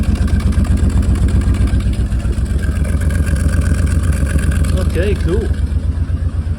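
A Jensen Healey V8 engine runs steadily just after a first start, its exhaust burning off oil at the back of the car. The rumble is loud and continuous with a throbbing low idle, and a voice speaks briefly near the end.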